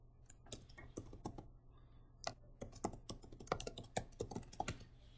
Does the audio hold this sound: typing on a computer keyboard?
yes